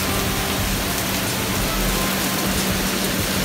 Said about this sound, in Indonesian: pagi-pagi udah hujan deras banget dong di Bali